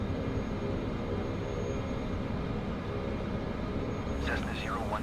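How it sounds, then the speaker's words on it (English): A Cessna propeller plane taxis slowly with reverse throttle in a flight simulator, giving a steady low engine drone under continuous talk, with a brief warbling tone near the end. "This is reverse throttle making me go this slow."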